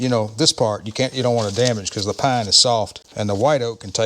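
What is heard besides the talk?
No everyday noises stand out.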